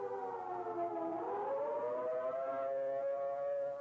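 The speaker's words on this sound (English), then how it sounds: "the attack warning signal. A 3 to 5 minute wavering sound on the sirens" A wavering siren rises and falls steadily, a long sustained warning tone heard alone at a distance.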